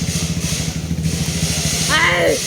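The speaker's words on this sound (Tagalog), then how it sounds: "Ang ingay ng motor." Steady pulsing engine rumble of a nearby trail motorcycle, with a brief higher whine near the end and people talking over it.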